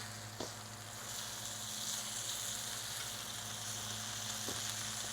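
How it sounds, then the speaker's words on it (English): Two ground beef burger patties sizzle in a frying pan alongside cooking eggs, a steady close crackling hiss holding at an even level, with a couple of brief clicks. "We got 2 patties in the pan"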